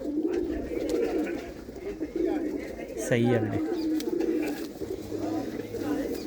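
Dera-bred pigeons coo in low, repeated calls close by, with men chatting briefly over the steady cooing.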